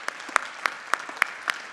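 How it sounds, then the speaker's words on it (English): Audience applause for the school counselors at a high school counseling department junior presentation, a steady patter of many hands with several sharper claps standing out, fairly close and lasting under two seconds, no talking. "join me in giving a round of applause to our school counselors tonight"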